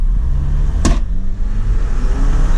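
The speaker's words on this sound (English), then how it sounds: "let's pull off on this main road here and do a little bit of a 0-60 test to see how that 270 horsepower really is" A 2019 Jeep Wrangler with a 270-horsepower engine pulling away hard from a dead stop on a main road, a loud steady engine drone heard from inside the cabin, with a brief sharp click partway through.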